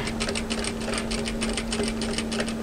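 A sewing machine stitches through an apron with a close, loud, continuous rapid needle chatter over a steady motor hum, unbroken for nearly three seconds.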